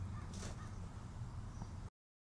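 A crow caws outdoors by a parked car at a Walmart lot, a single faint call over a steady low rumble before the sound cuts off.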